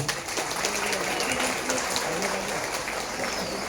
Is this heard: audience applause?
yes